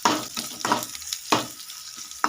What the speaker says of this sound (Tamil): எண்ணெயில் வதங்கின பச்சை மிளகாய்.